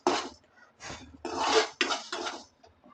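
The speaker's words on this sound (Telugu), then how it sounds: "మినపప్పుని వేయించుకుందాం. కొంచెం దూరంగా అయితే వేయించుకోవాలి." Urad dal dry-roasting in a pan gives several distinct bursts of scraping and rattling, like a spatula pushing lentils against the metal, separated by short pauses. No voices are heard.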